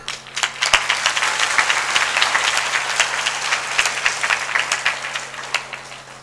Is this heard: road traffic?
no